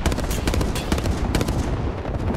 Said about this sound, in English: I'm taking hella shots at these bitches.